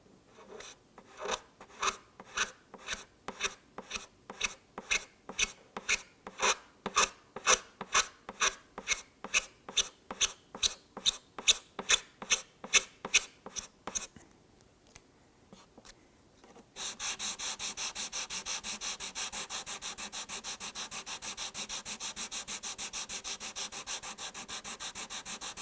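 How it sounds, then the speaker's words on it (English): Sandpaper rubbing cured GluBoost super glue on a guitar finish: a near, steady series of quick back-and-forth rasping strokes, then after a short pause a continuous, louder scrubbing hiss. "Try to sand just the area, and you can see the shadow outline of the super glue that's remaining."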